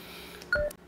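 A phone text message notification tone chirps in a quick pair of short electronic beeps, brief and moderately close over a faint room background.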